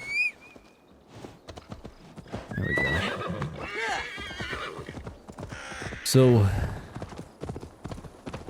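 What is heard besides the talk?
horse hooves and neighing in a video game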